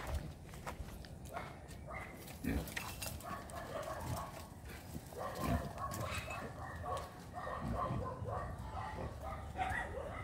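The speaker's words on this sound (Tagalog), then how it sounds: "May aso dito sa loob eh." A dog barks and yips in a yard where a pregnant pig is kept. The barks come at moderate distance among footsteps and rustling, in an irregular, ongoing stretch.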